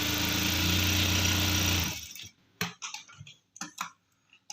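A sewing machine stitches piping onto cloth in a fast, steady whir for about two seconds, then stops, leaving a few scattered clicks and handling taps.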